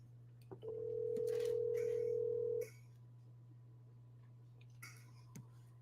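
A phone call on speakerphone gives one long ringback tone lasting about two seconds over a steady low electrical hum. Quiet follows, broken only by a few faint clicks and rustles.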